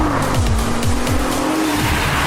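A Nissan GT-R NISMO accelerating hard: a loud, close engine roar with rising revs through several quick gear changes, tyres chirping, and no talk.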